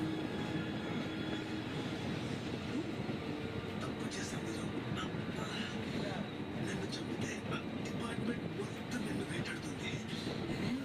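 Inside an APSRTC bus cruising at around 70 to 75 km/h on a highway at night, a steady low engine and road rumble drones on with faint rattles and clicks, while a voice talks over it.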